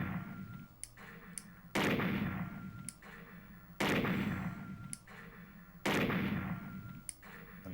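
Gunfire in the video game Snatcher, shot with the Justifier light gun: three loud booming shots spaced about two seconds apart, each with a ringing decay, over a low game hum.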